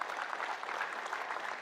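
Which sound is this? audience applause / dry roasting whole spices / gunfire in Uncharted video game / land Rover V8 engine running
audience applause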